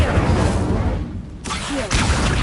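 An Incendio fire spell is cast in the Hogwarts Legacy video game: a loud, dense roaring burst with whooshing swells, ending in a sharp cut and a second rush of sound.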